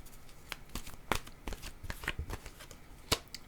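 Tarot cards are shuffled and drawn by hand, giving a series of crisp, close card snaps and soft riffles at an irregular pace, fairly quiet and with no talking.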